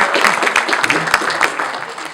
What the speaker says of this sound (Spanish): un aplauso para la mamá